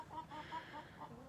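Soft, repeated clucking from a few backyard chickens close by, a steady run of short calls over quiet outdoor background.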